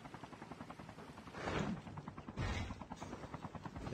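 Helicopter rotor in Call of Duty Mobile battle royale, a steady loud chopping drone that swells around the middle of the clip amid game noise, with no talk.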